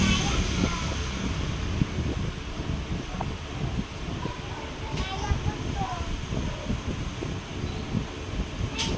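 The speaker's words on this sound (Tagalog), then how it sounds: "malakas ang hangin dito sa amin guys ngayon" Strong outdoor wind blows steadily at a home, a continuous broadband rush with rumbling gusts throughout, while people talk and children play nearby.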